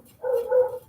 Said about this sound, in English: barking dogs, neighbors,